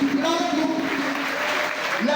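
Crowd applause and cheering for a dignitary at a French-speaking thanksgiving ceremony, a dense steady wash of clapping with voices shouting through it, loud and continuous throughout.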